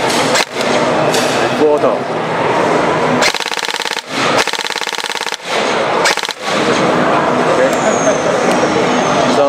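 BOLT airsoft AR recoil rifle at a 2017 airsoft exhibition, firing a few sharp single shots and then rapid full-auto bursts, loud and close, over steady crowd noise with people talking nearby.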